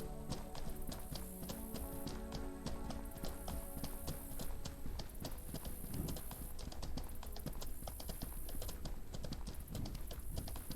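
Rapid, steady clip-clop of horse hooves galloping in the video game Mortal Online 2, loud and continuous throughout over a busy game soundscape, with no speech.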